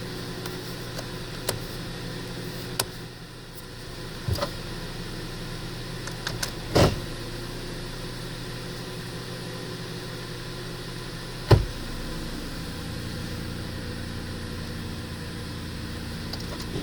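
A Jeep Patriot with a 6-speed automatic transmission idles with a low, steady engine drone, broken by a few sharp clicks and knocks, with no one speaking.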